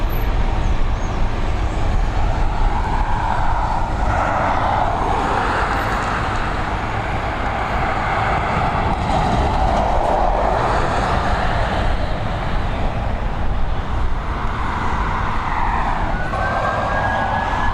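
An airliner takes off at Dublin Airport, a loud, sustained roar that swells and fades as it climbs, with a wailing siren mixed in throughout.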